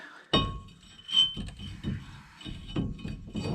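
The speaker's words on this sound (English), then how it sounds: "We can put this rotor back on, I guess." Brake rotor being fitted back onto a 2009 Ford Escape during a front wheel bearing job, giving a sharp metallic clank followed by lighter clinks and scrapes of metal parts being handled.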